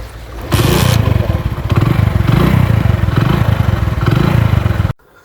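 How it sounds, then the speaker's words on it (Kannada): A motorcycle engine turns over and catches, running loud and close with a steady rumbling chug for several seconds before cutting off abruptly. "ಸ್ಟಾರ್ಟ್ ಮಾಡ್ತಾ ಇದ್ದೀನಿ ಬೈಕು"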